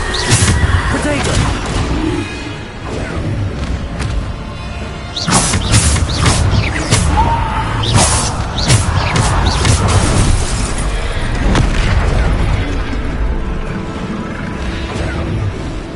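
Bombarda spell blasts in Hogwarts Legacy combat, loud booming crashes and impacts repeating among continuous battle noise, with a voice calling out over the mayhem.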